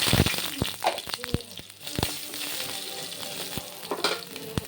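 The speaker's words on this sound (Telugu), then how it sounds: "బాండలు పెట్టి ఆయిల్ వేసాను. మినపప్పు, ఆవాలు, ఇదిగోండి ఆవాలు చిట్లయి, ఇదండి ఎండుమిర్చి" Mustard seeds, urad dal and dried red chillies fry in hot oil, giving a steady close sizzle broken by sharp popping crackles and the clatter of stirring, loudest at the start and again near the end.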